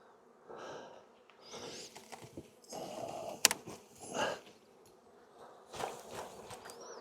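Honey bees buzz around an opened hive as frames are shaken, a low droning hum rising and falling in bursts with a few sharp clicks and handling knocks, close by and with no talk.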